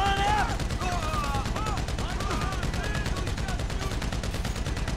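Rapid, sustained automatic gunfire rattles through a heist shootout in GTA 5, steady and loud for the whole stretch, layered over tonal game sounds.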